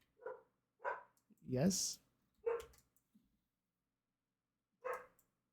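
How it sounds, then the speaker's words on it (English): Dogs bark in a home in several short, sharp bursts spaced irregularly, fairly close by, and one voice briefly speaks between them. "Dang, my dogs. Constantly barking."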